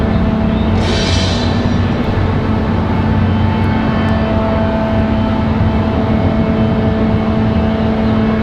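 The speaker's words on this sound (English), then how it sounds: "So we stick here with Air Canada. Again, first time on the show seeing the A220." An Air Canada Airbus A220 at Raleigh-Durham International Airport gives a loud, steady jet engine roar with sustained tonal hums, heard from nearby for the whole stretch without talk.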